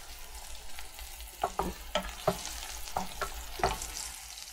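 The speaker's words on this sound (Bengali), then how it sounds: "1 চামচ আদা বাটা, 1 চামচ রসুন বাটা, আর 1 চামচ পেঁয়াজ বাটা এই তেলের মধ্যে দিয়ে দেব।" Ginger, garlic and onion paste hitting hot oil and being stirred, a hissing sizzle broken by several distinct spoon scrapes and knocks against the pan, close up.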